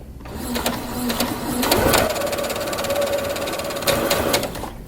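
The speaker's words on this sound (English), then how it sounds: "we're going to sew along the curve, making sure that the fabric stays along this line here" A sewing machine stitches fabric along a curve for a small sunglasses case, running as a steady rapid close-up whir of needle strokes with a slight rise in speed midway.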